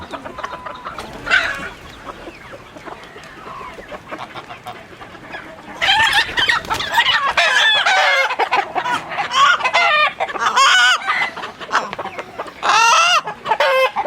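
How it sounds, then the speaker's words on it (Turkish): Roosters and hens clucking and squawking close by, quieter at first, then a busy burst of overlapping calls for the second half. "Güzel horoz."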